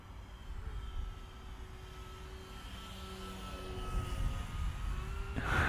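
Electric motor and propeller of a HobbyKing 1.4 m balsa Tiger Moth RC biplane at just over half throttle, a steady thin drone passing overhead, with the tone shifting slightly as it moves and growing louder at the end.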